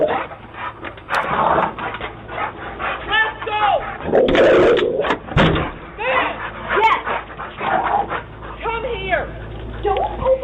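A dog yips, pants and whimpers amid loud, agitated shouting during a neighbor dispute outside a front door, the animal sounds tangled with overlapping voices throughout.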